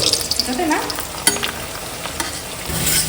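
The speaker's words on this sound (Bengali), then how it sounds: "অল্প একটু ব্যাট পাপড় ভাজবো" Papad fries in oil with a loud, dense crackling sizzle, and a few sharp scraping clicks run through it.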